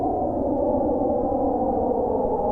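Roland Alpha Juno synthesizer playing a soft wind pad patch drenched in reverb, a steady breathy mid-range wash sustained evenly without breaks.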